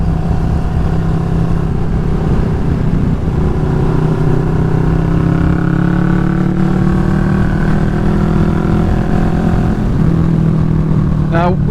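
Kawasaki Vulcan S motorcycle cruising on a country loop, its engine droning steadily with layered low harmonics and wind rush throughout, close and loud, without any talking.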